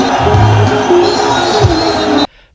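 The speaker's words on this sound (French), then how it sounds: "Le public déchaîné exulte" Excited crowd noise from a rally for Félix Tshisekedi in Kasaï, a dense, loud roar of voices and cheering that holds steady and then cuts off abruptly near the end.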